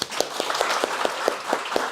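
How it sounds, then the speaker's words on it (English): Light applause from a small audience at a communication skills workshop, with a few distinct claps in a sparse rhythm over a hushed background. "A round of applause for her."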